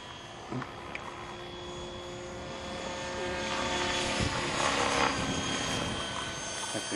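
A Swift RC helicopter flies on a windy day, giving a steady whirring rotor drone that gradually grows louder over wind noise, with no talking.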